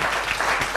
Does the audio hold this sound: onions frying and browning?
no